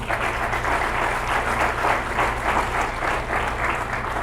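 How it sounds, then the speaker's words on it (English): Dense, steady applause from an audience at a political caucus dinner event, continuous clapping throughout at even loudness with a faint hum underneath. "So give her a round of applause."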